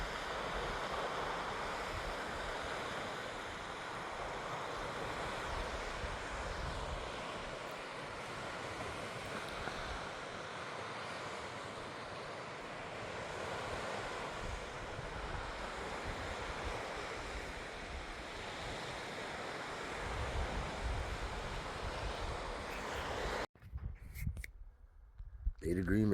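Waves wash steadily onto the Lake Superior shore on Michigan's Keweenaw Peninsula, a broad continuous surf roar with wind rumble throughout, ending in a few seconds of gusty microphone buffeting.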